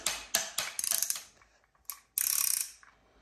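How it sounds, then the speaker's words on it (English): Ratchet wrench torquing a bolt on a 4.0L Porsche 911 engine: quick bursts of sharp metallic clicking, a few single clicks between, then a final longer clicking run, close and loud. "now I just want to torque that bolt up"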